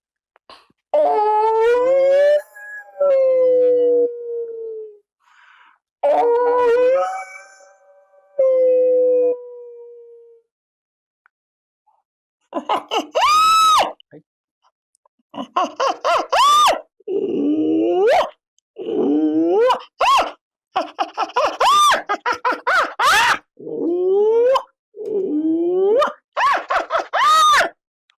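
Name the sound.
voice imitating a hyena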